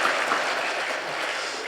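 A church congregation claps in encouragement during a Sunday worship service, a steady dense wash of hand claps filling the room at moderate loudness with no voices over it.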